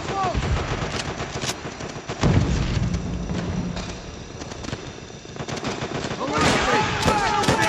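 Sniper and rifle fire crack from the trees in a Call of Duty: World at War battle, with repeated sharp shots and bursts over a dense, continuous rumble of combat noise, loud and close.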